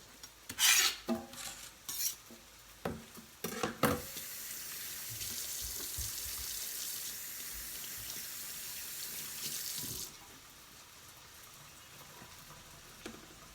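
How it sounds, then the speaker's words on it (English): Ground turkey sizzles in a pan under a steady hiss while a utensil scrapes and clatters through it. Sharp knocks come early, then the frying drops to a quieter sizzle near the end, with no voices. "looks like it's cooking over here pretty good. So I'm just gonna stir it up."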